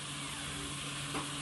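Chicken and potato pieces sizzle steadily in a pot for Chicken Majboos, with a brief scrape of stirring near the end, fairly quiet and continuous with no talking.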